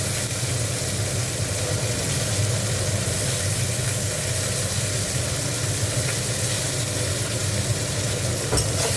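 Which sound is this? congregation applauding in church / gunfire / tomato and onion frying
tomato and onion frying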